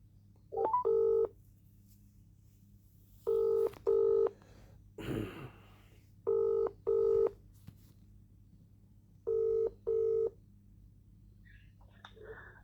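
Telephone call to a council legal department office line, heard as repeated pairs of electronic ring bursts in a steady rhythm over a low line hum, four double rings in all, clear and close with no talking.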